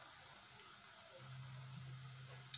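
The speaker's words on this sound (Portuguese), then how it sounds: "Estamos fritando, ó." A vegetarian burger fries in a pan with a faint, continuous sizzle, quiet and close, ending in a small clink of a utensil.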